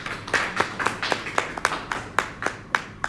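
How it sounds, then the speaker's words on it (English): A small audience at an air pollution and disaster preparedness workshop claps in a sparse, rhythmic pattern, about ten distinct claps close by, with no voices over them. "Let's clap for ourselves for being here very early."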